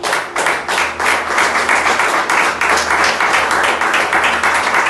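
A church congregation at a doctrine worship service gives a round of applause. The clapping is loud and continuous, with many hands blending into a dense, sustained patter that holds from start to finish.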